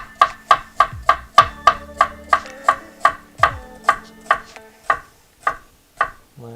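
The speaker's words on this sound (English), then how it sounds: "So I'm very thinly slicing these shallots" Sharp knife thinly slicing shallots on a cutting board, a steady run of about fifteen crisp close-up cuts, each a quick tap of the blade against the board, evenly spaced at roughly two per second with no talk.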